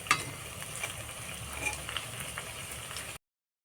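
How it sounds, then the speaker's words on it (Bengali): Banana blossom fritters frying in hot oil in a kadai give a steady, fairly quiet crackling sizzle for about three seconds before cutting off, with no talk. "এই যে কলার মোচার বড়া সবগুলো এলা এমন করে ভেজে দিন।"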